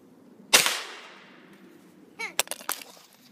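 A firecracker is fired from a handheld artillery shell launcher, a single sharp bang with a long, fading tail, followed by a few quick crackling pops a couple of seconds later.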